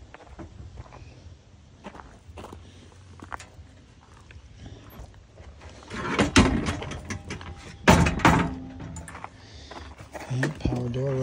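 A power sliding door on a 2016 Dodge Grand Caravan SXT BraunAbility wheelchair van runs, with a louder mechanical whir and thump of the door moving and latching in the second half, after quieter shuffling and someone talking.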